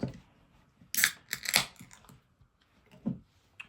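A bottle of La Fin Du Monde, a Belgian-style beer, is cracked open with a sharp crunching snap of the cap and quick metallic rustling. A softer clink follows near the end.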